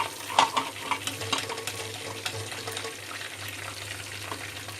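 Prawns fry in a pan for a Konkani-style prawn fry, giving a continuous crackling sizzle broken by a few sharp stirring clicks near the start, with no talking.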